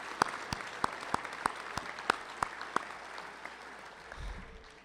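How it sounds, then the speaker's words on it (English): Crowd at a coach's celebration applauding former state championship players, a thin murmur of clapping punctuated by a run of loud, evenly spaced single claps from someone close by. "Give these guys a round of applause"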